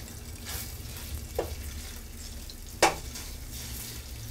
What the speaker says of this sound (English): I'm going to break this up and fry this up just until it's thoroughly cooked and maybe lightly browned